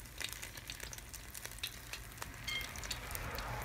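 Soft, steady sizzling of chicken wings in a Philips XL HD9240 air fryer, with scattered little crackles and pops, quiet and close, with no talking.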